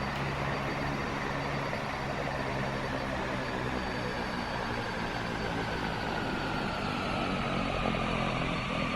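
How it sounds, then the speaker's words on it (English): Turboprop airliner propeller in beta pitch, heard through an open cockpit window, a steady loud droning whir with pulsing blade harmonics that hold level throughout. "Open up the windows. That's the first thing I did. So you could hear that beta prop"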